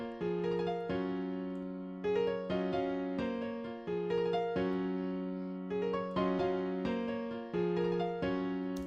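A hyperpop melody plays from MIDI at 130 BPM, a bright synth phrase with plucky decaying notes repeating in short looping bars, clean and alone with no voices.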